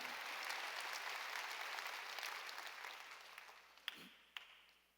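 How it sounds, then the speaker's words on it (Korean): A church congregation at a Korean Sunday worship service claps together in a broad, continuous roar that gradually fades. A few last sharp claps stand out near the end. "박수 치며 하나님께요."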